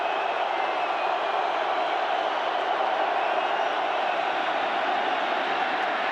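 A Seattle Seahawks home crowd roars while the Washington Redskins offense is on the field during a 2005 NFC Divisional playoff game, a loud, steady, unbroken wall of stadium noise that holds for the whole stretch.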